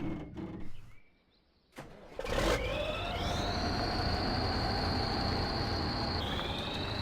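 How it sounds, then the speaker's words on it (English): A truck engine in the Mudrunner off-road driving game stops and restarts: a few knocks and a brief lull, then a burst as it fires up and settles into a steady idle hum with a thin whine. "Let's stop the engine and go back here."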